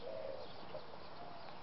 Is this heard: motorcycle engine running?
no